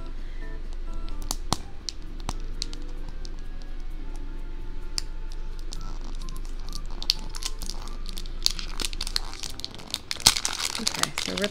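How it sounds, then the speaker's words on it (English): Plastic packaging on a toy mystery ball being ripped open with scissors, heard as crackling crinkles and tearing that build to a louder burst near the end. A person talks over it at close range. "Okay, so it rips off pretty well."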